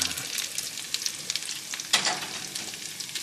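Steady crackling sizzle of dried shrimp frying in hot oil, with a brief louder spatter partway through and light stirring scrapes.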